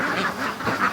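Free range ducks quacking close by in a pen, a quick burst of several overlapping nasal quacks in under a second, with no voices.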